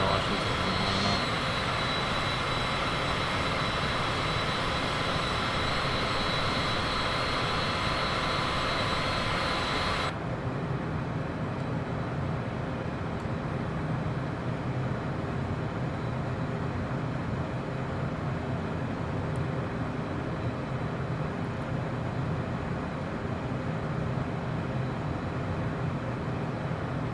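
Airplane climbing above the clouds on a flight from Seattle toward Alaska, its engine a steady loud cabin roar that softens partway through into a lower, constant drone.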